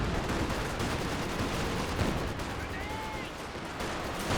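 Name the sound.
artillery barrage from Company of Heroes 2 video game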